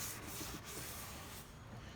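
A car's rear bumper being sanded to take off deep scratches and the top layer of finish, a continuous close, coarse rubbing scrape that eases slightly near the end.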